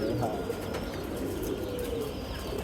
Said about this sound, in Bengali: এই দেখো কবুতর ফার্স্ট ক্লাস কবুতর